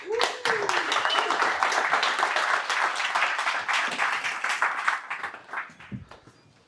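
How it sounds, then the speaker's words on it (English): Audience applause greeting a guest at an evening fireside chat event in London, a full crowd clapping steadily for several seconds before gradually thinning out and fading away. "Let's give a round of applause for Gadi, please."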